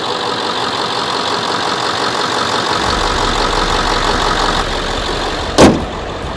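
A truck engine runs steadily after a brake repair, its low rumble growing heavier partway through, with a brief sharp clunk near the end and no talking.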